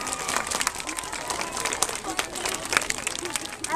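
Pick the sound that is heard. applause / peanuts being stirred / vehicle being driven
applause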